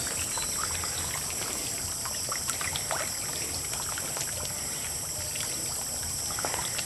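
Tilapia splash and slap at the water surface as feed lands, a continuous bed of broadband watery churning with scattered sharper splashes; no talking.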